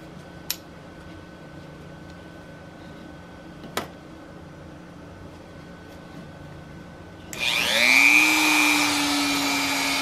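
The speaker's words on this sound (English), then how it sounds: "What I like to do is use a Dremel for this one, just to knock off the rough edges." A Dremel rotary tool run at low speed smooths the rough edges of a plastic fidget spinner; after a long quiet stretch with two faint clicks, the motor whirs up into a steady, fairly loud whine.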